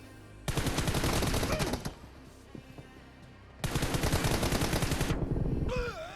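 Rapid automatic gunfire from the mobile battle game PUBG Mobile comes in two loud sustained bursts of closely spaced shots, with a quieter gap between them and a short electronic sound at the end.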